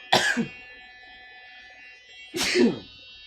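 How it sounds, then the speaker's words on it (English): Two explosive bursts close to the microphone, each a combined cough and sneeze, separated by about two seconds of quiet. "I coughed and sneezed at the same time."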